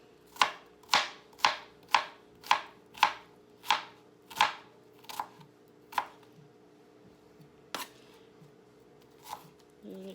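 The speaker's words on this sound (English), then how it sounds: "Then when I get down to this little part, I just kind of slice it and then do a cross cut." A knife slices and cross-cuts an onion on a cutting board while making spaghetti sauce, giving a quick, even run of about a dozen close, crisp chops that slow and thin out toward the end.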